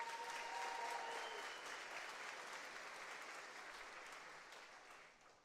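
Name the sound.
audience applause at commencement ceremony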